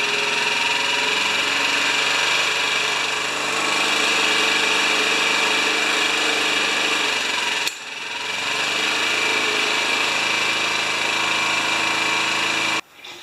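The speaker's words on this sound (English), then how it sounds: "Now I can turn up the idle a little bit." A Honda HR194 lawn mower engine idles in a loud, steady close drone for about thirteen seconds, with a brief dip midway and a sudden drop at the end.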